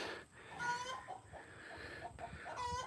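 A lone farm duck calling near her freshly filled pond, giving a few short nasal squawks, close by and moderately loud, scattered across a quiet outdoor background.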